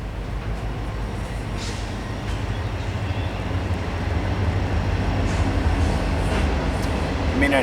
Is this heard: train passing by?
yes